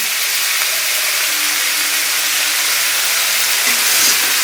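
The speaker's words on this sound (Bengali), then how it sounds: "এখন নারকেল দিয়ে একটু ভেজে নিই সবজিগুলো" Vegetables frying with coconut in a pan, a loud, steady close-up sizzle and hiss that continues without pause throughout.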